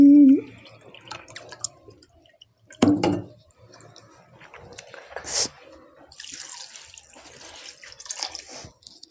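Water is poured and dripped into a pot in a home kitchen while making Maggi noodles, with intermittent splashes, drips and clatter of utensils in fairly quiet surroundings.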